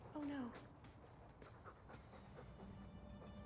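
In the Dragon Age 2 video game, a poisoned dog pants in quick, close breaths after a short high whine at the start, over a low ambient rumble in a cave.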